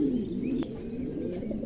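Pigeons coo close by in a short, soft burst of low, rolling calls, with a faint chirp cutting in partway through.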